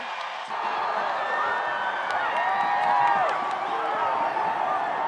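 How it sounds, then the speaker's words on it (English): Crowd noise fills a women's college basketball arena after a made left-handed layup, a steady roar of cheering and shouting that swells around the middle and holds loud throughout, with voices mixed in. "Can you hear the crowd?"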